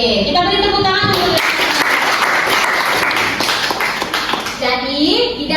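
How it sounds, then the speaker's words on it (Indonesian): Classroom applause from students during a microteaching lesson, a dense burst of many hands clapping for several seconds, with children's voices chattering at the start and again as it fades. "Kita beri tepuk tangan dulu"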